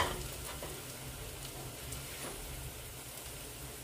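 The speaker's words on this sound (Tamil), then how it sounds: "இப்போ பருப்பு கறியை தாளிப்பு எடுத்துட்டேன்." Steady crackling sizzle of a tempering for Sri Lankan Tamil dal curry, spices frying in hot oil, close and even for the whole stretch with no one talking.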